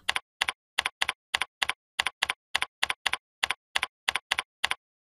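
Computer keyboard keys tapped in a quick, regular run of about fifteen crisp, close clicks entering label text, then silence at the end.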